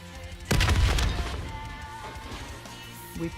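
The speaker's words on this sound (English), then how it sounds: "The explosion blocked our path." Explosion in Call of Duty Zombies on nightmare single-player mode: one sudden loud blast that rolls into a rumbling, crackling decay fading over a couple of seconds.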